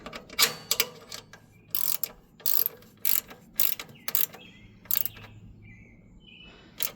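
Hand ratchet tightening bolts while assembling a DR brush cutter, a series of quick clicking bursts separated by short pauses, close, with faint birdsong in the background.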